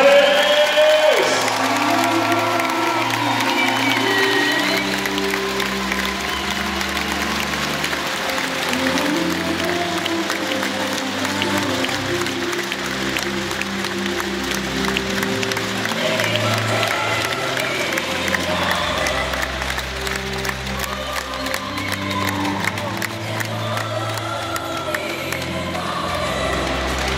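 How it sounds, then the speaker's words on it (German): Arena crowd applauding and cheering the United Volleys volleyball team at a bronze medal ceremony, steady loud clapping with whoops and shouts sustained throughout, a short tonal sound at the very start. "Dann haut jetzt nochmal einen dicken Applaus für diese Saison raus, für unsere United"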